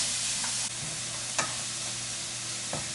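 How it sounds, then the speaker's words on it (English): Chopped onions and peppers sizzle steadily in a pan, a bright constant hiss broken by a few distinct scrapes of stirring, close and with no voices. "We're going to cook and stir this for just a minute or two, just until the onion starts turning translucent"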